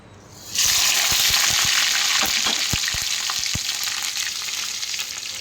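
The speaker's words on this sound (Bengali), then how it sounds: "তেল গরম হয়ে গেছে, দিয়ে দিচ্ছি কেটে রাখা কাঁচা লঙ্কা, কালো জিরে আর তেজপাতা।" Green chilli, nigella seeds and a bay leaf hit hot oil and set off a sudden loud, steady sizzle and crackle that carries on close up with a few small pops.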